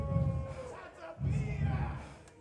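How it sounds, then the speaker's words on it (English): Baseball crowd jeering the home plate umpire, two swelling surges of massed shouting and bellowing at a distance, faint overall, with a thinner tone trailing at the start. "The crowd getting all over the home plate umpire now."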